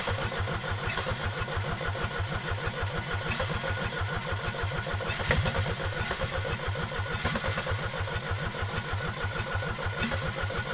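An old Mercedes diesel engine cranks and catches while still warm, then settles into a steady, rough clattering idle with an even knocking rhythm, loud and close for about ten seconds with no talking.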